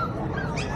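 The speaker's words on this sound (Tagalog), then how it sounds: "Lalo itong poodle." Poodles at a pet market give short yips and whimpering barks in a dense, noisy crowd scene, the dog sounds close but mixed into continuous background chatter and bustle.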